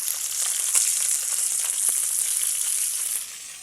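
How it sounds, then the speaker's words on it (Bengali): Fish pieces fry in hot oil for a fish oil-jhal, making a loud, continuous close sizzle with fine crackling spatter throughout and no voices. "মাছগুলো ভাজা হয়ে গেল"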